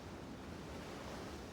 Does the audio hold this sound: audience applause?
no